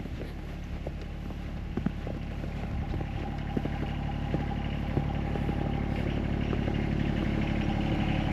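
A John Deere X758 garden tractor idles in winter, its engine holding a steady low rumble with a constant hum, close and continuous, with a few faint clicks over it.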